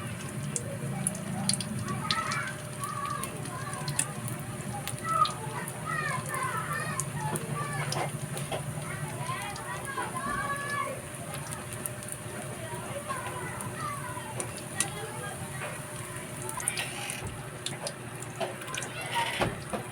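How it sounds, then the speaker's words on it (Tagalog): Lumpia shanghai filled with corned beef fries in oil over a moderate flame, giving a steady crackling sizzle with scattered pops throughout, while a voice talks intermittently over it. "ayan pinipritohin na natin"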